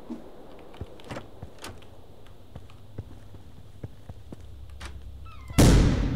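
A single loud shotgun blast from the game The Final Station bursts in near the end, broad and sudden after a stretch of quiet, sparse clicks and low rumble.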